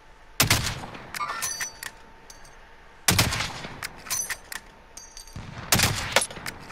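Three loud bursts of rapid automatic gunfire in Call of Duty: Modern Warfare, each a dense volley of shots lasting about a second, separated by quieter stretches of game ambience and scattered smaller shots.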